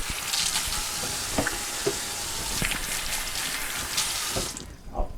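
Tap water runs steadily into a sink while hands are washed after cracking eggs for manicotti in a home kitchen. The hiss is close and continuous, with light splashes, and there is no talk.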